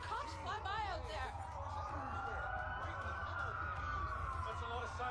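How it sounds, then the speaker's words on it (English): Several police sirens wail in the Watch Dogs video game during a city blackout, their rising and falling tones overlapping above a deep, constant rumble. "That's a lot of sirens for a blackout."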